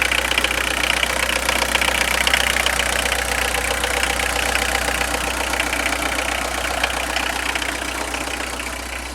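A Citroën C15 engine runs on a cold day, a steady close idle with a low rumble and a faint ticking knock, continuing evenly and easing slightly toward the end.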